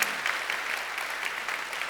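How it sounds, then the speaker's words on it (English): A conference audience at a summit's opening plenary gives a short burst of warm applause, dense steady clapping filling the room. "Let us give a warm applause to hear how many people are in this room."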